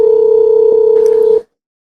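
A telephone line plays a steady electronic tone for over a second during a call back, loud and even before cutting off abruptly into silence, with no voices over it.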